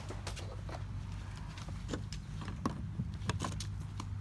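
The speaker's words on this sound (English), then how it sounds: "you literally just clip it on like that and then plug it into the car" A Tesla charging adapter is clipped on and plugged into an electric car: a series of sharp plastic clicks and metallic taps over a low steady hum, close and fairly quiet.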